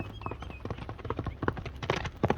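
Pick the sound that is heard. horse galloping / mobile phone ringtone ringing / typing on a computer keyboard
horse galloping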